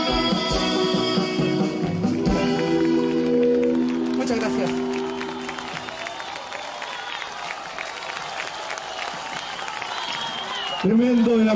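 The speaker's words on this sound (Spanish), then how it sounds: "Tremendo el aplauso esta noche" A live concert audience applauds a romantic band, a broad wash of clapping and crowd noise that swells as the music's sustained tones fade out.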